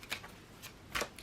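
Tarot cards being shuffled by hand in a few quick riffling bursts separated by brief pauses, close and fairly soft, with no talking.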